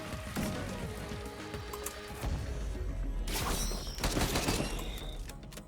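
A rapid burst of gunfire from the Captain's shotgun in Risk of Rain 2, with crackling impacts and debris in a dense, busy game soundscape, fairly quiet overall.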